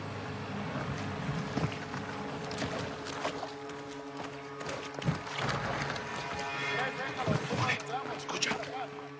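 Motorboat in a Call of Duty: Modern Warfare II mission, a steady engine drone with water wash running throughout, overlaid by game dialogue and scattered impacts.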